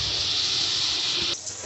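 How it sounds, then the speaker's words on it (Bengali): Loud, close, steady hiss of fish curry broth boiling in a pan for a pabda fish dish; the hiss drops abruptly near the end. "ঝোলটা ফুটে যাচ্ছে, মাছগুলো দিয়ে দিচ্ছি।"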